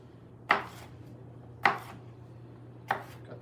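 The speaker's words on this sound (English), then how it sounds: "peppers are generally fairly easy to cut" Three sharp knife chops through peppers on a cutting board, evenly spaced about a second apart, close and crisp over a faint low hum, with no talking.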